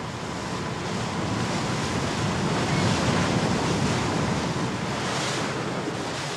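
Rough sea surging and crashing against rocky cliffs on the coast of La Gomera, a continuous loud roar of surf with wind buffeting the microphone and no voices.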